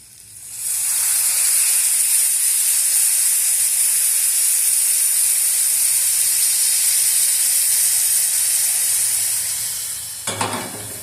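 Tamarind broth poured into a pan of bitter gourd curry sets off a loud, steady sizzle and hiss that holds for about ten seconds, then eases off with a few faint clatters near the end.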